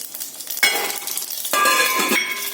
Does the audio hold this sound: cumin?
yes